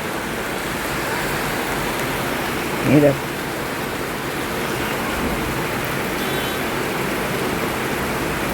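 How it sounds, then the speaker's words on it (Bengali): Heavy, pouring rain outside a window makes a steady, dense broadband hiss that continues evenly throughout, with a brief spoken interjection early on. "মুষলধারে বৃষ্টি হচ্ছে।"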